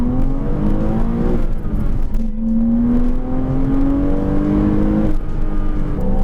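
Porsche Cayman S 987 flat-six pulling in second gear below 4000 rpm, a close, loud rising engine note that climbs steadily, dips briefly at a shift, then climbs again.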